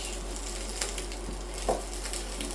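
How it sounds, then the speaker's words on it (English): Sausages and vegetables sizzle steadily in a tray as they are turned, with a constant frying hiss and a few close clinks and scrapes of a utensil against the tray, and nobody speaks. "halfway through the cooking you need to turn the sausages"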